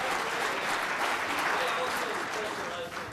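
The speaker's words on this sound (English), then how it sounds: "Let's give a round of applause for Steve Combs." Sustained audience applause at a talk, dense and steady for about three seconds before easing slightly at the end, with no voices above it.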